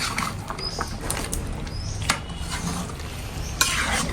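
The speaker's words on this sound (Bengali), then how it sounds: "তো এই যে এখানে হচ্ছে মাংসটা কষানো হইতেছে।" Meat being sautéed for kosha in a pan, sizzling and crackling under frequent clattering scrapes and taps of a spoon stirring, close and busy, no talk.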